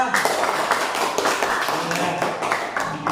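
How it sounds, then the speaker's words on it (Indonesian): Applause for a student group in a classroom, a moderate patter of clapping hands with a voice speaking over it. "tepuk tangan buat kelompok 2"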